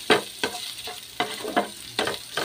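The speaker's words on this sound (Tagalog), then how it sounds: "nagigisa na yung ating panahog" Tender boiled meat ingredients sautéed in a pan, about half a dozen brisk spatula strokes scraping and tossing over a soft sizzle, close and loud, with no voices.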